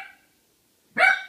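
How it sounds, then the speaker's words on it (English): A single short dog bark rings out close by in a quiet indoor room, following a moment of near silence. "that would be my dog"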